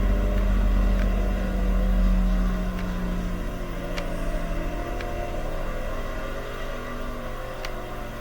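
A race car engine running a practice lap in World of Outlaws '23, droning loudly and steadily with a slight fade in pitch and level, plus faint clicks.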